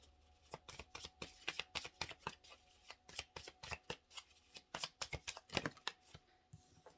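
Tarot cards shuffled in a steady series of quick riffling bursts, about a dozen soft crisp flutters close by, with no talking.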